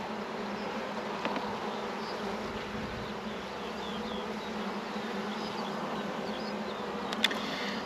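Honeybees buzz around an open hive in a continuous, dense drone, a steady close swarm hum with a faint click or two.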